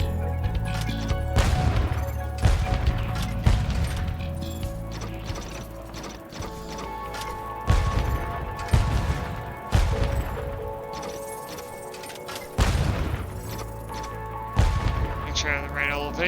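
Cannon firing in the video game Spyro Reignited Trilogy: a series of heavy booming blasts at irregular intervals, each with a sharp crack and rumbling tail, over busy game background sound.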